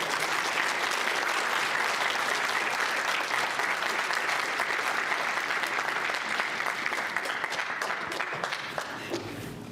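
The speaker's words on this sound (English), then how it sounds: "Can we get another round of applause for our guests, please?" Audience applause at a live launch event for a literary journal, a steady dense wash of many hands clapping for nearly ten seconds, gradually thinning toward the end.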